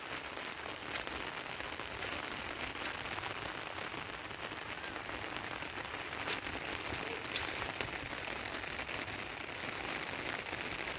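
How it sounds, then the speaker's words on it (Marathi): Continuous rain falls on waterlogged farmland and trees during a long monsoon spell, an even, close broadband hiss with scattered sharper drop ticks throughout, with no voices. "गेल्या 8 दिवसानं पावसानं झड लावली आमच्या इकडे"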